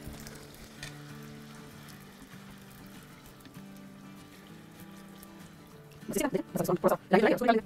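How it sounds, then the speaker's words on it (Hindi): Soft sizzling of puris frying in oil, with a low hum behind it, then louder bursts of crackling and bubbling near the end. "जब तक के फूल ना जाए पूरी। Yes that's it. अब सब पे ऑयल डालें।"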